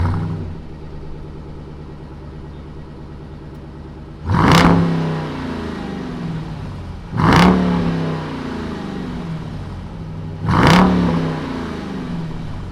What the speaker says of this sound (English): Why don't we go ahead, fire it up, and see what this Durango SRT sounds like.